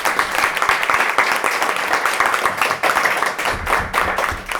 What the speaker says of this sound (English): Everybody, can we make a round of applause